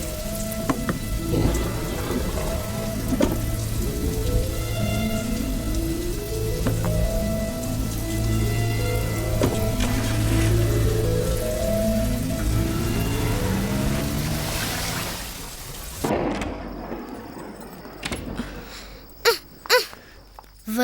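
Heavy rain pours steadily in a scene from the Tamil film Sillunu Oru Kaadhal. The dense, hissing downpour runs under a swelling melodic score with a low rumble, then the sound drops away into a few sharp knocks.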